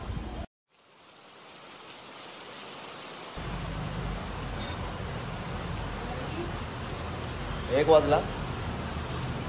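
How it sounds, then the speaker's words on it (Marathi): Steady rain keeps falling throughout, a continuous broadband hiss that stays even from start to finish, with a brief dropout near the beginning and a person speaking over it. "कंटिन्यू पाऊस चालू आहे."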